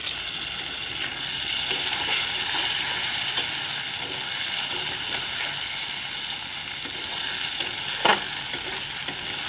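Ginger, dried chili and cumin fry in a partly covered pan, giving a steady, even sizzle with a few faint clicks and one brief louder knock near the end.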